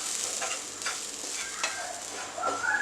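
Grated coconut for somas stuffing is stirred in a hot pan, giving a close, steady sizzle with scraping stirs throughout.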